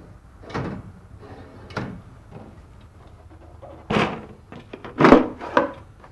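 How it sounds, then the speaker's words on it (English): A plastic drawer in a Red Sea MAX S aquarium cabinet is released from its catches and slid out, giving a few close, dull knocks and sliding thumps spaced over several seconds with no talk. "to release it, you just have to press on the plastic catches and pull the drawer forward"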